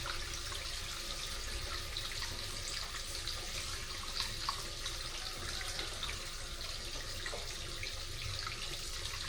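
Water runs steadily from a household tap into a pot for noodle soup, a continuous soft hiss and splash at low level, with no voices.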